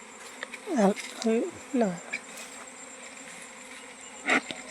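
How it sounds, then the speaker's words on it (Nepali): Honey bees buzz around an open hive, several loud close passes sweeping by over a constant hum of the swarm, with a few brief words spoken. "भरि मौरी छ बाहिर आइहाल्छ।"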